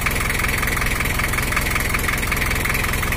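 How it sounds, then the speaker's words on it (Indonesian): A Toyota Hiace LH 11 with a 2L diesel engine idles with a steady, rapid, close mechanical ticking over a continuous low rumble, with no speech. "Kalau langsamnya ada bunyi kemeletek, tapi kalau digas kemeleteknya hilang."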